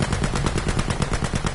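Cannon fire in a combat video game comes as a loud, rapid string of evenly spaced blasts, close and continuous for over a second, with no voices over it.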